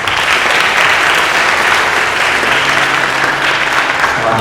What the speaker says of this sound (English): Please give a round of applause to Kun Steve.